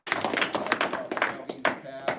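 A scattered burst of clapping from a group at a graduation ceremony, uneven sharp claps and cheers close by, with voices mixed in.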